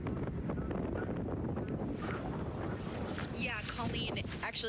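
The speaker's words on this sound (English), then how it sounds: "you can hear the winds right where you are" Strong wind in the Hollywood Hills during live wildfire coverage gusts steadily against the microphone as a loud, continuous rumble, with a reporter talking over it throughout.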